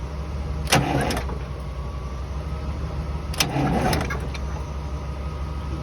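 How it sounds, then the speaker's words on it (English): Starter motor briefly spinning an old Detroit diesel engine in a tour bus, two short cranking bursts about three seconds apart over a steady low hum, with no catch or firing. "So if these make a good enough contact, I'm going to see if that starter will spin."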